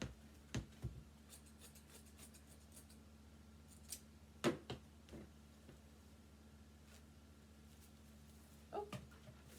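Scissors snip through mesh for a Halloween pumpkin wreath, a few sparse, quiet, crisp cuts spaced out over a faint steady background hum.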